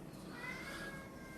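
A cat meows close by indoors, a drawn-out, wavering call that runs through the whole moment with no one talking.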